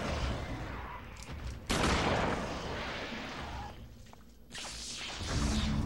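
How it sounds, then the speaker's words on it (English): A double-barrel shotgun in the video game Eternal Darkness fires twice, each a loud sharp blast with a rough tail, the second bigger than the first, set against a dark ambient game backdrop. "Dual barrel shotgun!"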